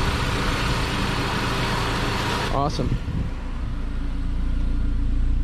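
A 2008 Saab 9-5 with a straight-piped exhaust drives off, a loud, constant engine rumble and drone close by. Its tone shifts briefly partway through, and someone speaks a single word over it.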